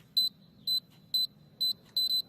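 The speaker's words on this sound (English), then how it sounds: "So all you had to do is input your code here and hit the arm button." A home security alarm keypad sounds a series of loud, clean electronic beeps while being armed, five evenly spaced tones with the last one doubled, close and alone in a quiet room.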